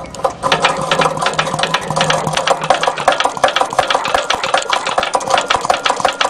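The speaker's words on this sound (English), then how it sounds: "quickly rock this flywheel back and forth and check if we've got spark" Rocking the flywheel of a Briggs and Stratton engine quickly back and forth produces a dense, rapid mechanical clicking and rattling, loud and close, with no voices.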